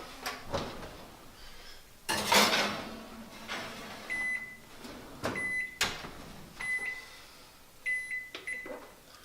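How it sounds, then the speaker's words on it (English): A dish of low carb chicken parmesan goes back into an oven set to broil, with a few thuds and rattles as the door opens and shuts, followed by a series of short electronic beeps as the setting is keyed in. "I'm gonna go ahead and throw this back into the oven"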